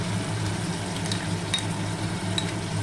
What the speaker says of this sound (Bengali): মশলাটাকে একটু ভালো করে আমি কষিয়ে নেব